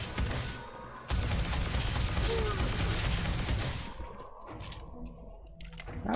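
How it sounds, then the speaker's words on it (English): Sustained rapid gunfire in the video game Starfield during a fight with a Terrormorph, dense and loud for several seconds before thinning out near the end. "Stop shooting him, let me shoot him."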